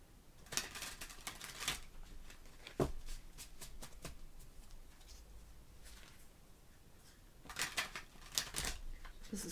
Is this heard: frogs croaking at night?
no